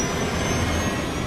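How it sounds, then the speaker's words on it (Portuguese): Aircraft jet engines regaining power during an in-flight incident, a loud continuous broadband roar with steady high whine, heard alone without talk. "Tão misteriosamente quanto o incidente começou, 3 dos motores do avião recuperam a potência."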